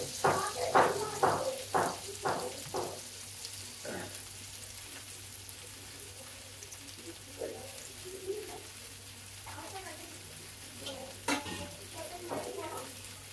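Jackfruit seed cutlets coated in rice flour, egg and cornflour sizzle in hot oil, with a burst of loud crackling and stirring early on that settles into a quieter, steady fry with occasional pops.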